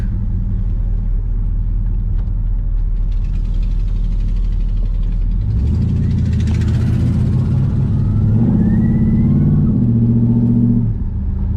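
An LS-swapped Firebird's V8 settles into a loud, steady idle, then revs hard around the midpoint, with a couple more rising throttle blips near the end, close and dominant with no talking.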